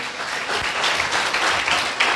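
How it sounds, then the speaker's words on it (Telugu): Audience applause at a church revival gathering, a dense steady wash of clapping from a crowd filling the room, loud and continuous throughout. "కొట్టాడు చప్పట్లు గట్టిగా, ఇంకా గట్టిగా"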